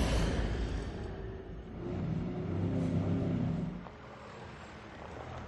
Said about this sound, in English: We know that the Citroën is powerful and torquey, but what really matters on a job like this is traction